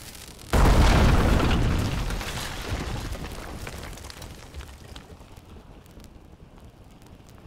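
A cannon fires a cannonball in the survival video game Survival: Fountain of Youth, one sudden loud boom that rolls into a long, fading rumble over several seconds, with no talking.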